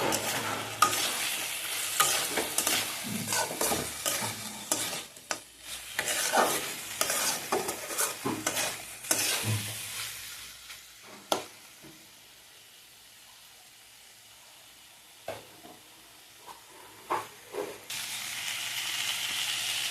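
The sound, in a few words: bathua greens with sugar stir-frying on high flame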